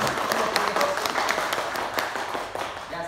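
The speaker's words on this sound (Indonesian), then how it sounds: "Tepuk tangan dulu." A school audience at an Indonesian teachers' reflection session claps briefly, brisk scattered hand claps that soften toward the end.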